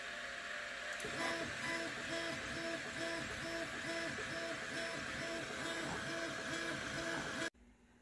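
Longer Ray5 laser engraver running on a rotary roller while marking a stainless tumbler, a faint steady mechanical hum with rhythmic repeating stepper-motor pulses, cutting off abruptly near the end.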